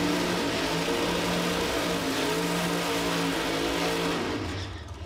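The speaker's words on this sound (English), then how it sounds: "Good, strong burnout for him." Drag race car in a Super Pro eliminations round doing a strong burnout, engine roaring at steady high revs for several seconds before easing off at the end, loud and close with no talk.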